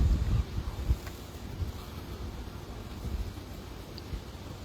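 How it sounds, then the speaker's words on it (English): Wind gusts through a graveyard in Sheffield, buffeting the microphone with rumbling bursts and a steady rushing hiss, strongest at the start and then settling into a constant blustery roar. "Windy, isn't it?"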